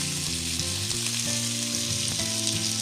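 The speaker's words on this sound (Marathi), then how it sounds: "जेणेकरून मासे फास्ट आपले फ्राय होतील" Mackerel and pomfret frying in a pan of oil, a steady close sizzle throughout with faint background hum and tones.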